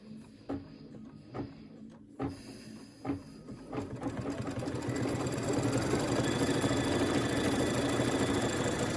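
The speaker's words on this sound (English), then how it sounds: "I'll go ahead and place it back on the machine and let's stitch the next section." Embroidery sewing machine stitching a quilting test section: a few separate clunks at first, then a steady, fast mechanical whir with rapid needle thumps that runs close and loud to the end.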